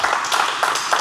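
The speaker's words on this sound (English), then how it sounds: "little round of applause for everyone" A small group at a Brazilian jiu-jitsu class claps for new blue belts, a short, fairly loud patter of hand claps with a few uneven bursts, close by and alone.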